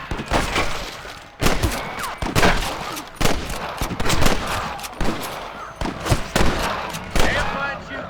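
Gunfire from a shootout in the western video game Red Dead Redemption: repeated loud bursts of shots, some rapid and overlapping, through the whole stretch, with faint voices mixed in.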